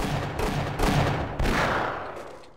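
Half-Life gunfire in a cover-based firefight: a few heavy booming shots in close succession, loud and near, with no talking.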